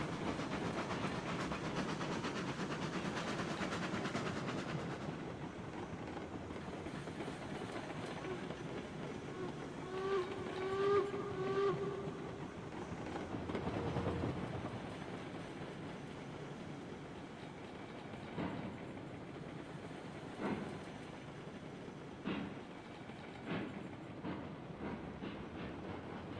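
A model train hauling log wagons along its track, rumbling and clicking steadily at low level, with a brief tonal whine partway through and scattered sharp clicks later.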